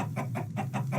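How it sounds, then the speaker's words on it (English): Chickens on a video game chicken farm cluck in a quick run of about five short, rhythmic calls, close and moderately loud. "the chickens are laying eggs like crazy"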